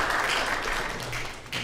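A church congregation at a Sunday service claps in encouragement, a brief dense burst of applause that stays fairly even and close for under two seconds.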